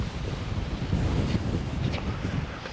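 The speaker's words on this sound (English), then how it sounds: "It is a very windy day today." Steady wind buffeting a microphone, a continuous low rumble with gusty swells throughout and no other clear sounds.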